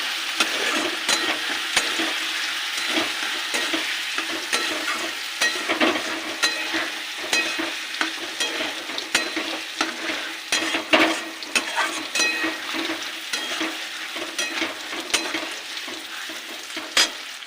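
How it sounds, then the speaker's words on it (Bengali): Salt, turmeric, chili and cumin powder sautéed in a pan for a lentil-fritter curry, a steady sizzle with frequent spatula scrapes and clicks, close and with no voices. "দেবো লবণ, দেবো হলুদ গুঁড়ো, দেবো লঙ্কার গুঁড়ো, দেবো জিরের গুঁড়ি, কষিয়ে নেব।"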